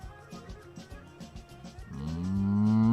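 A cow moos twice, first in short broken grunts and then in a long, loud, rising low bellow close by.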